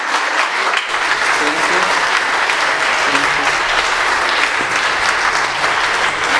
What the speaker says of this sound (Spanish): ofrecemos un aplauso a Oli